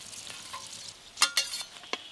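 A papad omelette frying in a pan, a soft sizzle under a few quick, sharp spatula scrapes and taps close by.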